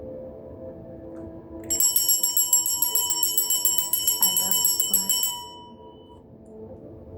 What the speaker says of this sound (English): Hitting the 1-2 with the bell.